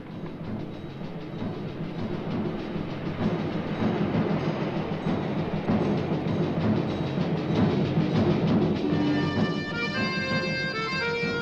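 A metro train passes at steady volume, a continuous rumble with rhythmic wheel clatter that carries on throughout, with some brief tonal squeals near the end.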